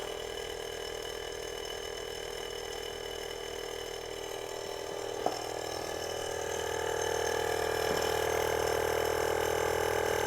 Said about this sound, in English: Pump's kicked in